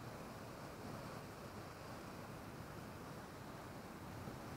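Faint ocean waves wash below a high seaside lookout at Misaki Park, a soft, steady broadband rush mixed with wind noise and no distinct breakers.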